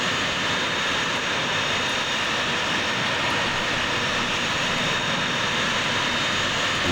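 Jet engines of a Boeing KC-135R in Microsoft Flight Simulator give a steady, unbroken broadband roar at moderate level throughout, with no other sounds.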